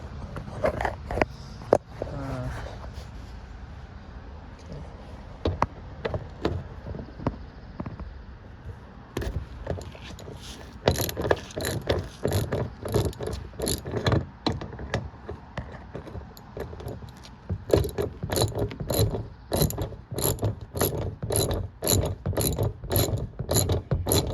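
A ratchet with a 10mm socket removes rear bumper bolts on a 2007–2011 sixth-generation Toyota Camry, producing long runs of close, rapid clicking with brief pauses between bursts.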